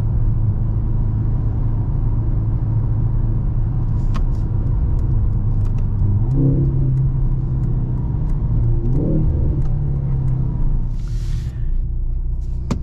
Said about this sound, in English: This exhaust just sounds amazing.